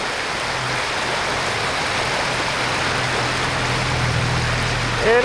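A brook flows steadily beside a park path, its broadband rushing and babbling holding an even level throughout with a faint low hum underneath.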